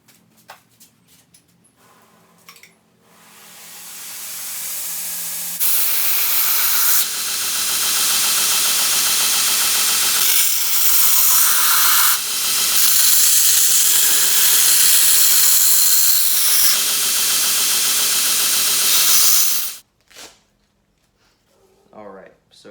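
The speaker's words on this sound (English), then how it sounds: "So I'm really excited to show you guys the sander that I have." An Ameribraid 2x72 belt sander spins up after some quieter handling noises and runs with a loud, steady, hissing roar for about fifteen seconds, then cuts off abruptly, leaving faint clatter behind.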